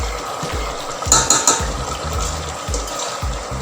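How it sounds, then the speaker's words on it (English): Chicken pieces frying and simmering in a pan with a cup of water for biryani, a wet bubbling sizzle with soft stirring knocks and scrapes, close and steady without voices. "The chicken is frying away."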